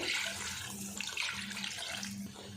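Water pours steadily into a pot for chicken pulao, a close, continuous splashing gush with no speech over it.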